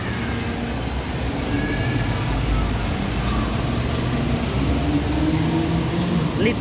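A mini train rumbles along steadily at a community hub in Singapore, with a low continuous rolling noise and faint squeals of wheels over background ambience.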